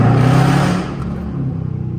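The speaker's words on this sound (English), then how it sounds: "All I got is a mid muffler and a resonator delete. I don't know how the hell this shit is so loud." A Dodge Charger R/T with a mid muffler and resonator delete, its engine droning loud and steady through the exhaust in a heavy low rumble that eases slightly partway through, close and continuous with no speech.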